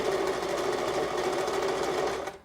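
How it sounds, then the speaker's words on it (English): A sewing machine stitches forward along a seam in ski equipment, a steady close whirring drone that runs continuously before slowing and cutting off at the end; no one speaks. "And we're gonna sew forward basically along."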